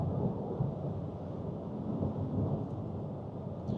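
Steady broadband road and wind roar inside a Citroen eC4 cruising at around 120 km/h on the motorway, a constant low rumble with no talking.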